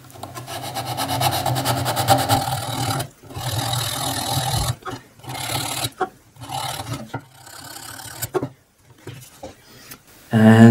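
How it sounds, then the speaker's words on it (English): Sandpaper rasps against the blowing hole of a handmade wooden flute in irregular scraping strokes, some long and some short, separated by brief pauses and close to the listener. "As you are shaping the blowing hole, you gradually go for a finer sandpaper."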